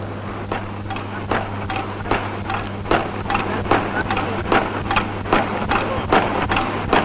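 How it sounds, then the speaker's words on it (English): Wire-cutting and shaping machine forming handles for kerosene tins in a 1940s Indian tin works, with a steady low hum under repeated sharp clanking strikes roughly every half second. "This machine cuts and shapes a piece of wire into the handle which you grip."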